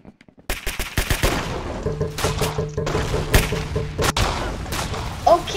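Gunfire in the Roblox shooter Arsenal: rapid, loud volleys of shots and thuds crackle almost continuously, with faint background game sounds.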